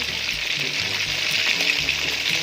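Steady sizzling and crackling of fish frying in hot oil, a continuous hiss filling the whole stretch with no voices over it.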